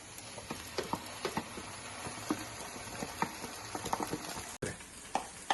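Ají amarillo paste frying in a pan with the caramelized aderezo for Peruvian ají de gallina, a steady close sizzle with scattered small pops and stirring clicks throughout.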